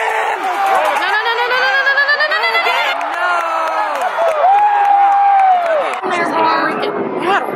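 A sports game crowd roars and cheers loudly and continuously, with whistles and chatter rising through the noisy stands, while people talk nearby.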